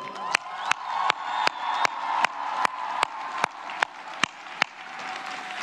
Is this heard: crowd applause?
yes